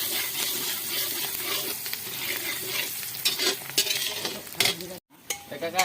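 Onions frying and sizzling in hot oil in a pan, with occasional stirring clatter, a steady close crackle throughout and a brief drop near the end.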